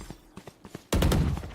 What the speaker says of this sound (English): Inspire heavy on the trigger and finds Rocket almost immediately.